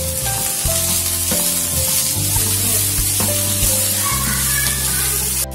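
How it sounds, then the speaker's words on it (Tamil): Vegetables and beans fry loudly for veg noodles, with a dense, close sizzle and intermittent clanks and scrapes of a ladle against the pan, and no voices. "இப்ப காய்கறிகள் எல்லாம் நல்லா ஃப்ரை ஆயிடுச்சு."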